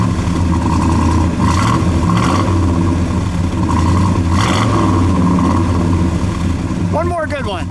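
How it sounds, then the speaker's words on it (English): A 1969 Oldsmobile F85 W-31 with a 350 V8 and 4-speed runs loud and close, its engine rumbling steadily with a few rev surges, while people talk over it. "Go ahead, give it a rev, Ed."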